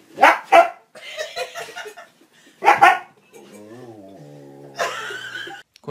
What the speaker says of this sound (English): What dogs hiss like that on the stairs?